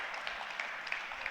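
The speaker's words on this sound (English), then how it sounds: "Big round of applause for Jimmy, Brian, Robin, and the whole Ketovangelist crew" An audience at a ketogenic lifestyle talk applauds, a dense, steady wash of many hands clapping in a room, moderately loud and unbroken, with no speech over it.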